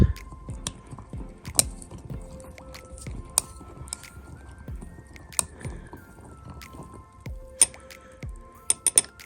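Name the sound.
stirring homemade vinegar in a jar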